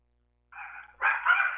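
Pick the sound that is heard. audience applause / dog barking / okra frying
dog barking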